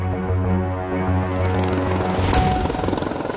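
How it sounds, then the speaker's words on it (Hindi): Prachand multi-role attack helicopter heard close and loud, a steady low rotor thrum with layered engine harmonics and a whining turbine buzz, swelling slightly toward the end. "प्रचंड एक मल्टी रोल अटैक हेलीकॉप्टर है।"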